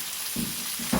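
Chicken browning on a cast iron griddle gives a steady, loud sizzle and crackle of frying, with a couple of brief swells as pieces settle in the hot pan.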